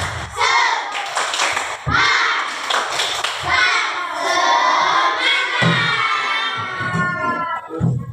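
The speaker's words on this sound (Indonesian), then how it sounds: "tepuk semangat." Indonesian Islamic religious-education class doing a 'tepuk semangat' clapping chant, children shouting and clapping together in loud rhythmic bursts with brief thuds, voices chanting over the claps throughout.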